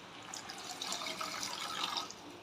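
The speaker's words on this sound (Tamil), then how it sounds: "ஒரு 1/2 டம்ளர் தண்ணி சேர்த்துக்கலாம்." Water poured into a pan of lemon juice and salt for lemon rice, a steady close splash and trickle lasting a couple of seconds with no talk.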